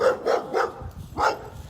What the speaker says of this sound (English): looks like we're about to walk by a barking dog